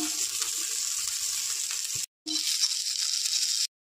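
Bay leaves dropped into hot oil for Bengali egg fried rice crackle and sizzle steadily up close, with a brief silent gap before the frying resumes and then cuts off.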